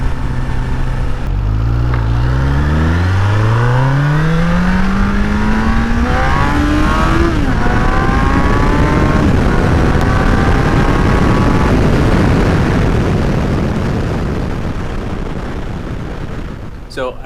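A Suzuki Bandit 1200 motorcycle, with a freshly replaced rear wheel bearing, accelerates hard through the gears, its engine revving up in loud rising sweeps close by before settling into a steady roar of wind and engine while riding.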